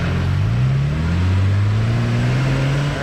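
A Jeep Wrangler engine hums steadily from inside the cabin while driving slowly down a cul-de-sac, its pitch rising gently as it gains a little speed under light road noise.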